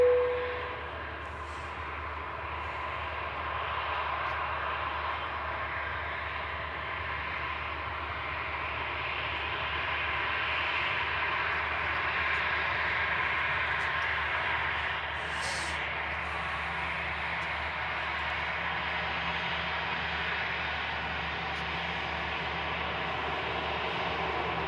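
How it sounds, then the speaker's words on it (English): An EasyJet airliner arriving from Milan makes a steady, distant jet roar with a broad, even hiss that holds level for nearly half a minute, with no one talking. "It's EasyJet just arriving in from Milan"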